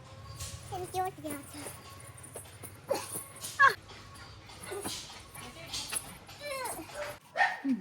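Two puppies yip and bark in short, scattered bursts at a home visit, mixed with whimpers, while people talk and someone speaks over them nearby.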